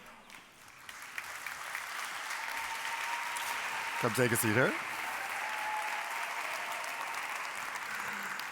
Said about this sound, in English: They couldn't wait to applaud for you.